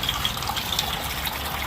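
Water pours out of a container and splashes onto a patio in a continuous, close, rushing gush. No voices are heard.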